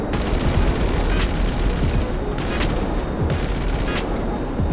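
Aircraft machine gun in GTA San Andreas Mercenaries firing continuous loud rapid bursts with a dense rattling roar, broken by a few short gaps, with no talk over it.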